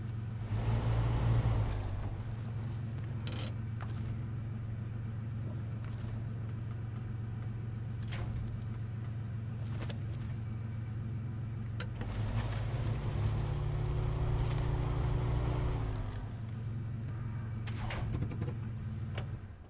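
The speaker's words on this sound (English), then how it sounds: "Does have that old whining crappy V8 sound from the 80s" Old 1980s V8 truck engine in the off-road driving game Snowrunner, a steady low drone with a whining tone, holding constant and rising briefly in places, with occasional clunks and no talk.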